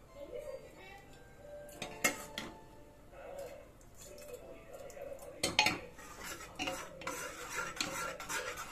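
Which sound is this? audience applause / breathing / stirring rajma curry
stirring rajma curry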